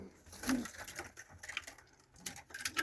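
Pakistani pigeons coo softly in a loft, with low murmuring calls heard close but faint among scattered rustling and small knocks.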